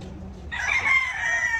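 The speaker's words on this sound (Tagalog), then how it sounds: "Mga chicken roaster dito." A rooster crows once in a loud, drawn-out call at a small pig farm, rising sharply after a quieter half-second start and holding steady to the end, with no voices over it.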